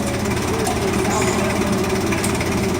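Forklift engine running steadily during a daily inspection with the working brake engaged, a continuous mechanical drone with rapid rattling pulses, loud and close, without pauses.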